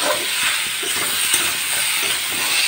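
Pointed gourd and potato curry with ginger and cumin paste stir-fried in a pan, a steady close sizzle with soft scraping strokes throughout, no talking.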